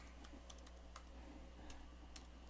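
Quiet, close taps on a computer keyboard as a password is entered, a handful of light, irregular keystrokes over a low hum, ending with a slightly firmer press.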